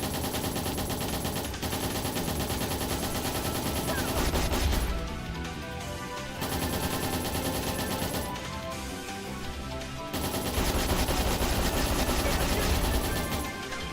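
Battle against a rotorcraft enemy in the game Trails in the Sky 3rd: dense, continuous mechanical rattling and rapid gunfire-like bursts over game music, loud and steady with brief dips.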